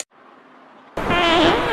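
A single fart bursts out suddenly after a near-silent pause, a loud, low, fluttering blast that trails on for under a second.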